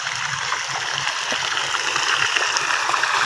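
Water pumped around the clock pours steadily into a catfish pond on a farm, a continuous rushing, trickling flow with no pauses, moderately loud and close.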